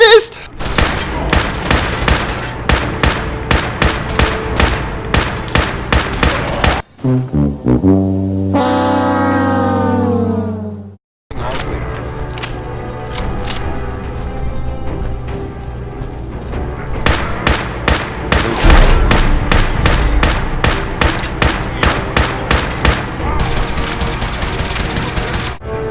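Rapid bursts of gunfire in Fallout 4 during a Vertibird assault on Fort Strong against super mutants, loud evenly spaced shots in long volleys, broken by a short stretch of rising mechanical whine before the firing resumes.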